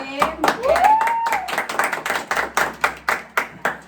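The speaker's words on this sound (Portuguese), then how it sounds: "Isso merece palmas" A few people clap in a steady, rhythmic run of sharp claps during a podcast recording, starting after a brief burst of talk and continuing close and clear to the end.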